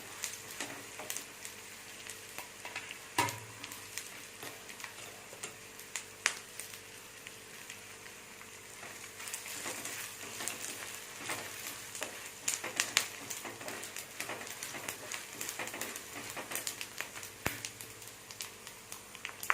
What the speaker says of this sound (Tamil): மல்லி மிளகு சீரகம் எல்லாத்தையுமே போட்டு ஃப்ரை பண்ணிக்கணும்